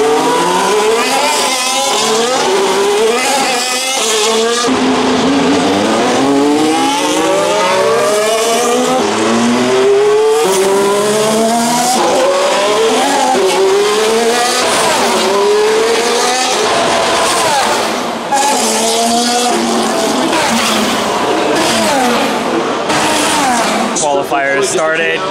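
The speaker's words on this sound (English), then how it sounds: "You can hear them gunning through, and you can smell the rubber." Formula 1 race cars sweep past at the Singapore Grand Prix, engines revving with rising and falling pitch as they pass close by, loud and continuous, with people talking over the roar.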